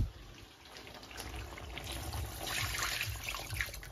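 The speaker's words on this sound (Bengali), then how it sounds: "তার আগে চলো মাংসটাতে জল দিয়ে নিই।" Water trickles and splashes into meat in a cooking pot, a soft continuous pour that grows slightly louder and fuller toward the end, with no talking.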